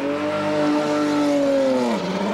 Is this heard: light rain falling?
no